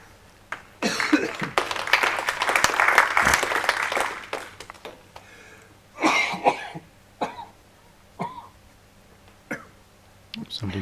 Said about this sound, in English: Somebody coughing somewhere.